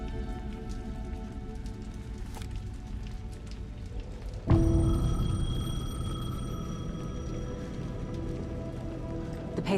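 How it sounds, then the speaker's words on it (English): Steady rain patters throughout a night scene in the game Alan Wake 2; midway a payphone abruptly starts ringing, a loud bright tone that holds and slowly fades over the rain. "The payphone was ringing."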